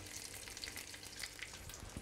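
Veal cheek searing in a hot pan gives a soft, even sizzle and crackle throughout, faint and close with no other sounds.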